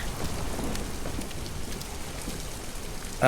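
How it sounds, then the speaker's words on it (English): Steady rain falls in Detroit: Become Human, a dense even hiss of drops on surfaces, with a brief louder burst at the very end. "Let's just get out of the rain."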